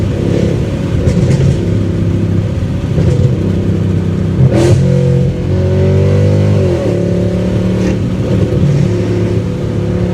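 A Mercedes-Benz C63 AMG sports car engine with a RennTech P31 tune revs hard at full throttle and rises and falls in pitch, with a few sharp crackling pops from the exhaust, loud and close.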